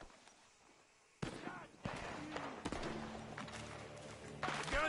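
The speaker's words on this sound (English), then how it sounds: "Gunshots are coming from that barn!" Gunfire from a barn in Red Dead Redemption 2, sharp cracking shots that start suddenly and repeat among game noise and shouting voices, fairly loud and close.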